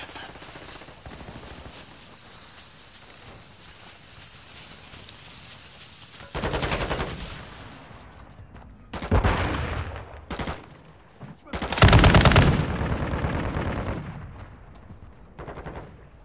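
Gunfire in Call of Duty Modern Warfare II comes in sharp automatic bursts and single shots, several loud close volleys standing out against a quieter background of distant battle noise.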